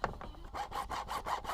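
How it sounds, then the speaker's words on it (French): Close, quick back-and-forth rasping strokes of a hacksaw cutting through a PVC gutter, about seven strokes in a steady rhythm. "Celle-ci va être coupée à la scie à métaux."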